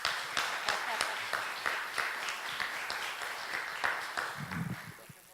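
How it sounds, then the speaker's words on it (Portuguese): An audience applauds at a film screening with distinct, rhythmic claps ringing out over a murmur of voices, then fading near the end. "Palmas para ele, gente."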